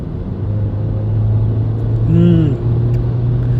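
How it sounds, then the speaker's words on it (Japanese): Inside a BMW X1 xDrive20i xLine SUV pressed hard in sport mode, a loud, steady engine drone and road rumble fill the cabin, with a short burst of a voice partway through. "ちょっとここ加速できたので加速してみたいと思いますが、スポーツで結構踏みました。"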